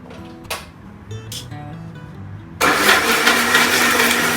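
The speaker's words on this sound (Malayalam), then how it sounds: "നമുക്ക് മിക്സിയുടെ പ്ലഗിൻ ചെയ്യാം." An electric mixer grinder spins up abruptly after a few quiet clicks and handling sounds, then whirs loudly and steadily as it blends a smoothie in a home kitchen.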